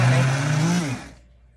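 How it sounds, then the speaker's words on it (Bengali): A hand blender whirs loudly and steadily while blending a mashed green banana, its motor pitch sliding slightly before it switches off and spins down into near silence. "এই হ্যান্ড ব্লেন্ডারটা দিয়েই আমি"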